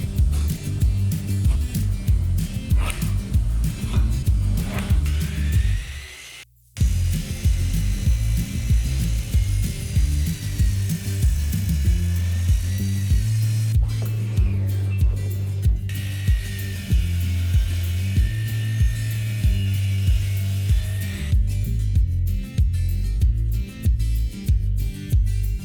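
Table saw ripping through wood stock as boards are cut to length, a loud steady whining drone with repeated cutting passes, a brief drop near the start, and rougher buzzing bursts toward the end.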